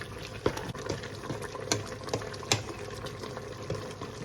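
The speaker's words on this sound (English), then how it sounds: "pour a little water out" Water poured out of a cooking pot while making a budget family meal, a steady watery splashing and trickling stream with a few sharper clinks and spills, close and moderately loud.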